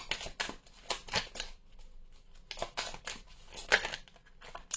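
Playing cards being shuffled by hand in a series of quick riffling bursts with short pauses between them, close and fairly soft, with no talking.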